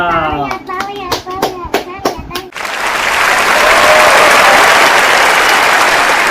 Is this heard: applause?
yes